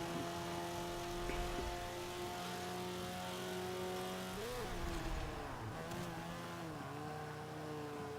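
A Mitsubishi EVO 8 rally engine in Forza 5 revs hard with a steady, buzzing drone, dipping and climbing in pitch around gear shifts partway through, loud and continuous with no talk.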